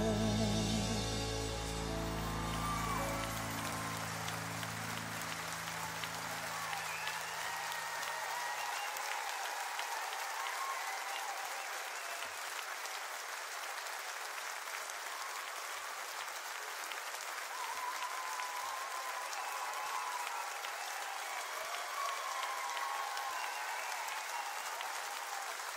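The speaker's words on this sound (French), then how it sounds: "Vous applaudissez, j'en suis fort aise" Sustained audience applause at a 2014 Olympia concert, a dense, steady wash of clapping from a large crowd that carries on for the whole stretch after some low musical tones fade at the start.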